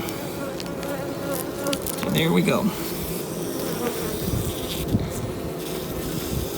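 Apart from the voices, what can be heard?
honey bees buzzing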